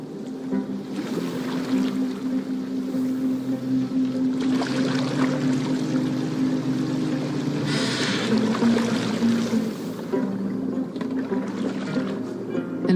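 A boat glides over water in the video game Assassin's Creed Valhalla, a steady wash of water and hull noise with a low droning hum running continuously and swelling slightly midway.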